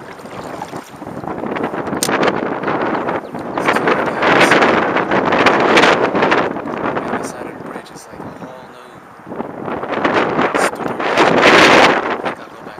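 Strong wind gusts buffet a canoe on a lake while fishing for crappie, roaring in waves that rise and fall across the stretch and occasionally ease before surging again.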